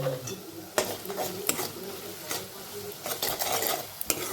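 Pithla, a Maharashtrian gram-flour batter, being stirred and sautéed in a pan, with repeated scraping spoon strokes and light clinks over a steady soft sizzle, close up.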